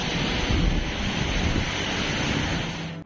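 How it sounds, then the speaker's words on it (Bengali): Sea waves break on Puri beach in a continuous, loud wash of surf with wind rumbling across the microphone, cutting off abruptly at the end. "দারুণ সুন্দর ঢেউ"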